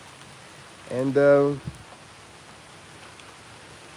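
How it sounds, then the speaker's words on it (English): Rain falls outside in a steady, soft patter, with someone briefly speaking over it for a moment before the rain carries on alone. "look, it's raining everywhere"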